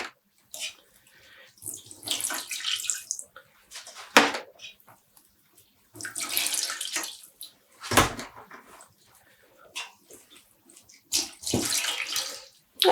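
Small skeins of dyed embroidery yarn are squeezed and sloshed in a rinse tub, with bursts of splashing and trickling water between quiet pauses, close up.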